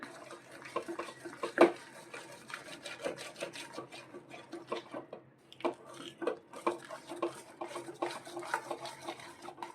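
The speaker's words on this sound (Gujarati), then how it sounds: "સારી રીતે પહેલાં મિક્સ કરી લઈશું આપણે।" Thick sabudana and rajgira flour batter is stirred by hand in a bowl, a continuous run of soft, wet, squelching strokes with one sharper knock near the start and a short pause midway.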